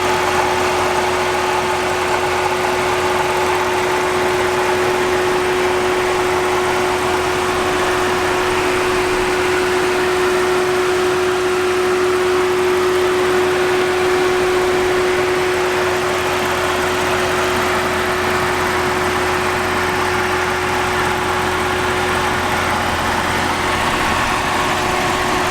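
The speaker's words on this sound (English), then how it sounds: "let's rev it up just a little bit so y'all can hear the motor" A Chevrolet Camaro ZL1 with a supercharged 6.2L V8 idles steadily under the hood, a constant close rumble with a droning tonal whine throughout and no revving or voices.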